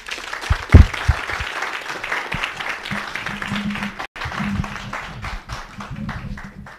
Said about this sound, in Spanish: Agradecemos a Salma su, su plática con un aplauso.